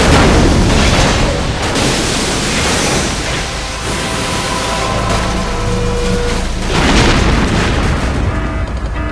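Heavy rolling explosions and booms as the Big Shell facility is destroyed in Metal Gear Solid 2, a loud continuous roar of blasts surging and swelling with no voices.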